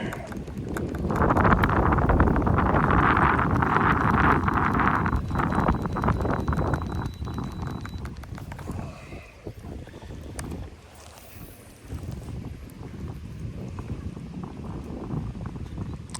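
Wind buffets the microphone with a heavy low roar at a fishing dock, easing midway, leaving gentler gusts and faint splashing and knocking.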